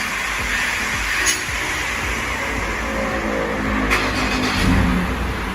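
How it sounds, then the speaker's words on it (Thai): A Ford Ranger pickup engine, started by remote, runs steadily nearby, a constant mid-pitched rumble with a few faint clicks and slight swells in loudness. "สั่งซตาร์ทเครื่องผ่านตัวรีโมทนะคะ"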